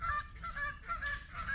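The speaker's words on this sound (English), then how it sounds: "Noisy geese." Several geese honk repeatedly by a fishing lake, loud and nasal, in quick overlapping calls.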